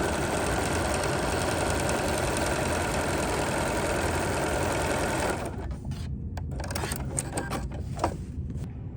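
Sewing machine stitching a small pieced quilt sandwich with heavy interfacing and batting, a fast steady motor whir and needle chatter that runs loud for about five seconds, then breaks into short stop-start bursts.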